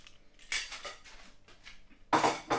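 A knife scrapes and clinks against a plate while cutting into an air-fried full English breakfast pizza, two louder scraping strokes over quieter knife sounds, close and without speech.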